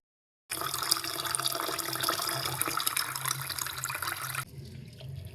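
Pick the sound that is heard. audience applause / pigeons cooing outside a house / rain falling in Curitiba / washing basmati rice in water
washing basmati rice in water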